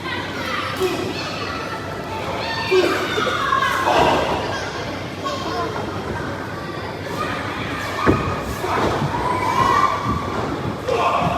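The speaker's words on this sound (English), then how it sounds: "They're getting a loud reaction from the crowd every time" Noisy crowd at a wrestling match, steady roar of many voices with shouts rising and falling, occasional thuds from the ring, continuous throughout with voices mixed in.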